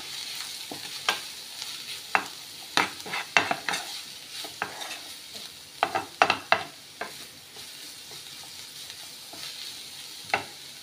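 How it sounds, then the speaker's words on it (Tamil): Sautéed vegetables with salt and chili powder are stirred in a hot pan for wheat-flour veg noodles, a soft sizzle under a scattered series of sharp spatula scrapes and taps, close. "மிக்ஸ் பண்ணி விட்டுடலாம்."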